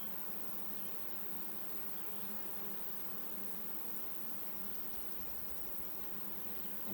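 Honey bees buzz continuously and densely around an open hive during an inspection, forming a close, steady drone that holds at an even level throughout with no talk.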